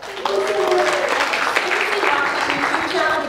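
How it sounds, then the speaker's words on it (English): An audience at Social Media Marketing World 2017 breaks into applause after a speaker's session, a steady wash of clapping that lasts a few seconds under a voice. "give her a round of applause"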